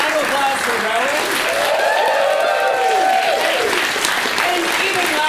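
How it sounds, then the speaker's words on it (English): Audience at an improv theatre in Glasgow applauding steadily, dense clapping with cheers and whoops from the crowd, loud and close throughout without a pause. "Let's give a round of applause for Rowan."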